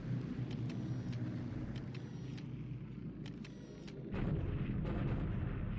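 Bombing raid on Milne Bay in the War in the Pacific wargame: a steady rumbling roar of engines and distant explosions with sharp intermittent cracks, swelling louder near the end, no talking.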